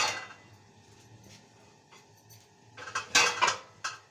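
Old metal cooking pots and pans, some twenty to twenty-five years old, clank and clink as they are handled in a home kitchen, with quiet scraping at first and a few sharper, louder knocks near the end.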